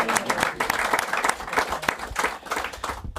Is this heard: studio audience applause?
yes